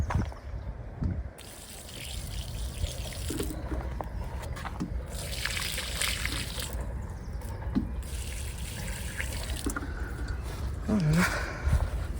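Water pours onto vegetable garden plants during a summer heatwave, a steady close splashing and trickling that runs for most of the stretch, with a person speaking intermittently over it.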